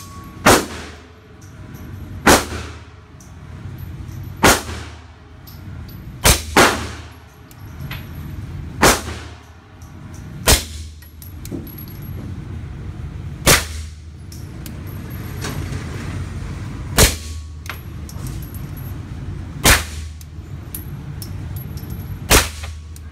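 A SilencerCo Maxim 9 suppressed pistol fires 115 grain Federal rounds. About ten sharp, muffled cracks come at irregular intervals of one to three seconds, close and loud, over a low background rumble.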